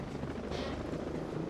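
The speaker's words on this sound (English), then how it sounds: "That's the sound of the helicopter." A helicopter in the video game The Division gives a steady rotor drone, faint and continuous through a short stretch.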